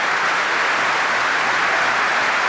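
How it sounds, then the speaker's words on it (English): A table tennis crowd applauds at a women's world team championship semifinal. The clapping is a dense, steady wash with no voices standing out. "the crowd applauding Wang Yuegu's sportswomanship"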